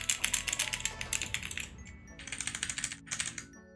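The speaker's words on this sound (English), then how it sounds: "these switches do sound different than the Omnipoint switches. Because these are red switches here on the sides" Rapid typing on a gaming keyboard with red switches, a dense run of quick close-up key clacks that pauses briefly, then resumes in two shorter bursts.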